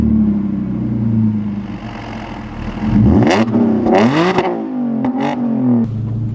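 A 500 bhp Audi car pulls away on a drive with a deep engine drone that climbs into rising revs through several gear changes, loud and close from inside the cabin.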